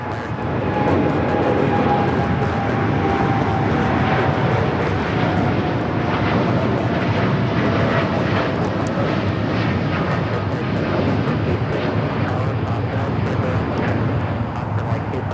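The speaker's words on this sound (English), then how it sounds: "2602 taking off to Newark on the 787-10 Dreamliner." A United Airlines Boeing 787-10 Dreamliner takes off from Los Angeles airport, its engines producing a continuous broad roar at moderate distance that holds steady throughout, with no voices.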